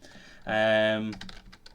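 A few light keystroke clicks on a computer keyboard, preceded by a short sustained voiced hum, fairly close and quiet.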